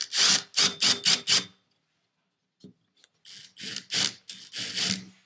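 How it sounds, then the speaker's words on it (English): A toggle bolt is tightened while an over-the-range microwave is mounted, giving close rapid ratcheting clicks in two bursts separated by a brief quiet pause. "Now, to properly tighten a toggle bolt, what you want to do is apply a slight pressure and then tighten it"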